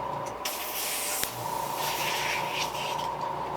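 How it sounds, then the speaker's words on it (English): Airbrush being cleaned after painting a custom fishing lure, a continuous airy hiss and spray lasting throughout, fairly close and moderately quiet. "Do a good cleaning on our airbrush, because it's about done for the day."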